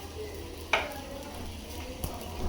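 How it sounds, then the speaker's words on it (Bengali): Aloo paratha frying in a pan gives a soft, steady sizzle with a brief scrape or clink of a utensil near the start, close and moderately quiet, with no talking. "আলু পরোটা ভেজে দিচ্ছি বাচ্চাদেরকে।"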